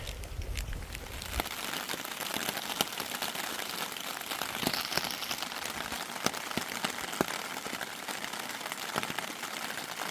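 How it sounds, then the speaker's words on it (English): Steady storm rain pattering on a surface during a spring backpacking trip on the Loyalsock Link Loop, a constant hiss with scattered sharper drops, continuous throughout with no voices. "The storms were coming in, rain started and it hasn't stopped."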